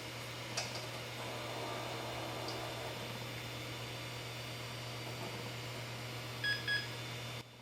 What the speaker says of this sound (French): Nous avons même 2 bips de BIOS